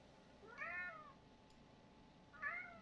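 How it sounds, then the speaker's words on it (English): A house cat meows twice, short rising-and-falling calls about two seconds apart, soft and fairly near against a quiet room. "He just wants to meow."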